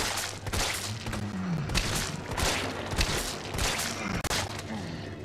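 Gunfire at zombies in the Resident Evil 3 Remake video game: a dense, continuous string of close, loud shots and impacts with a few deeper thuds and no pauses, over low game background noise.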